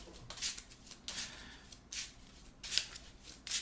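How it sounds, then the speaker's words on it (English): A deck of game cards for a Marvel Champions custom hero is shuffled in several quick riffling bursts that come in a steady rhythm. The sound is close and fairly quiet, with no talking. "And we will give this one more little shuffle."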